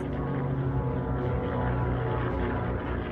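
German-Italian combat aircraft over the Basque town of Guernica: a steady droning propeller-engine roar with layered harmonic hum, dense and continuous, loud throughout.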